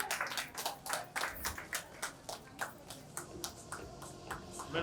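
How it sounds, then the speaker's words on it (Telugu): A small group claps at a Bathukamma celebration, with bursts of handclaps arriving in a loose rhythm, fairly quiet and close, continuing for several seconds. "గట్టిగా చప్పట్లు ఒకేసారి."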